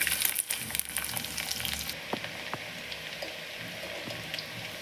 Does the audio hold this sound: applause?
no